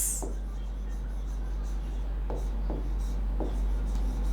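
A pen writes a chemistry heading by hand on paper, giving a few soft, scratchy strokes close by over a steady background hum.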